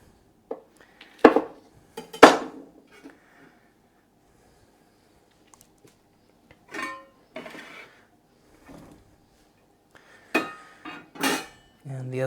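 A knife coarsely cutting red peppers on a board, a few sharp, scattered knocks and chops with quiet gaps between them, close and clear, plus brief murmurs of voice.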